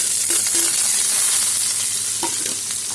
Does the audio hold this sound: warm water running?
no